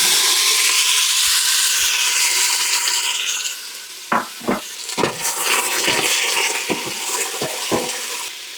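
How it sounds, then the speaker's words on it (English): Onion and tomato hit hot oil in a pan with a loud, steady sizzling hiss, followed by scattered scraping and stirring knocks. "Got some oil going in my pan. I'm going to dump in the onion and the tomato."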